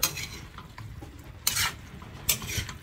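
A spoon stirs chicken pochero with potatoes in a cooking pot, scraping steadily against the metal, with a few sharper clanks and a low simmering hiss underneath, close and moderately loud.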